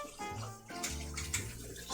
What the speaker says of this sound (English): I'm gonna rinse the spiced dough out of the